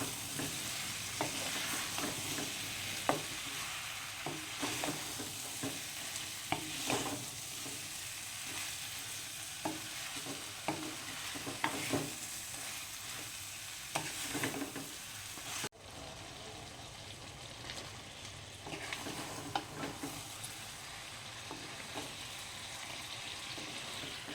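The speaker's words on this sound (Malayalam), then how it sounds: "ജസ്റ്റ് ഒരു അഞ്ച് മിനിറ്റ് ഇങ്ങനെ മിക്സാക്കി കൊടുക്കണം" Chicken gravy with a teaspoon of salt being stirred in a pan, a continuous soft simmering sizzle with scattered scrapes and clinks of the spoon over about twenty-four seconds.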